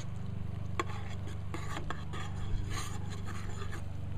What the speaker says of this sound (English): You want to keep stirring this and just keep an eye on it.